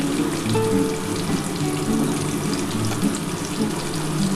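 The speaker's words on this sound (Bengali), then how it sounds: "আমি আলু আর কুমড়োটা একসাথে ভেজে নিই বন্ধুরা।" Potato and pumpkin fry together in a pan with a continuous close, loud sizzling hiss, steady throughout with no voices.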